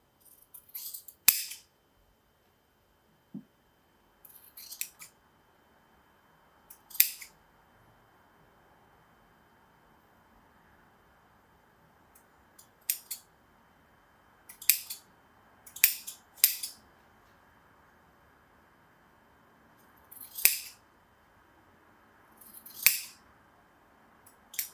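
Scissors trimming the cord fringe of a small macrame shoulder bag, a series of sharp, close snips scattered irregularly, some single and some in quick pairs, with near silence between.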